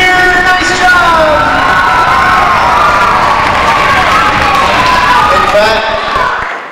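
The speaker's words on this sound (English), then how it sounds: "Clap for her. Do some more, Hayden. Give her a cheer." A crowd of schoolchildren cheers loudly and continuously for a girl skipping rope at a fitness jump-rope session, with excited shouts and voices overlapping throughout.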